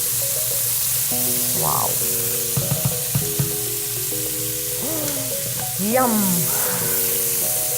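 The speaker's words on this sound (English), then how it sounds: "we just add the pine nuts, the fried pine nuts" Fried pine nuts sizzle as they are tipped into a pot of rice for Arabic sayadiya, a loud steady fry with scraping and clinks of stirring, and a voice exclaims over it.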